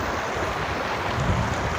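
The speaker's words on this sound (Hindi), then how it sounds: "पानी एकदम तेज़ आ रहा है" Fast, rushing water at a mountain stream crossing on the Vasudhara trek, a dense, continuous roar with no pauses, loud and close to the microphone.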